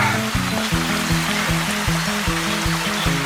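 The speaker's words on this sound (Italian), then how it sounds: "Questa è la fontana del Vaio, carina, sicuramente avrà una sua storia." Water flowing at the Vaio fountain in Lessinia, a steady broadband rush and trickle heard close by, with a low rhythmic tonal pattern running underneath throughout.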